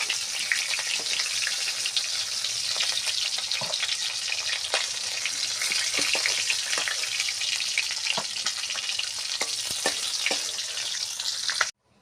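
Fish heads frying in oil in a wok, a loud continuous crackling sizzle with scattered pops throughout, stopping abruptly at the end.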